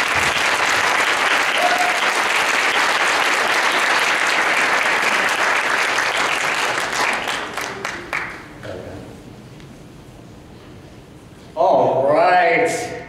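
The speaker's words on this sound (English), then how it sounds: "Let's have a rousing round of applause for our keynote speaker." A conference audience applauds a keynote speaker with a sustained, dense round of clapping that fills the hall for several seconds before thinning out and dying away, after which a voice speaks briefly.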